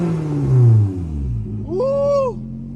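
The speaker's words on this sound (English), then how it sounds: "Got the car going." An older car engine starts up and revs loudly, a low rumbling roar rising and falling in two bursts close by, with a rising whine toward the end.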